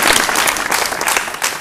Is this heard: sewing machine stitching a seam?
no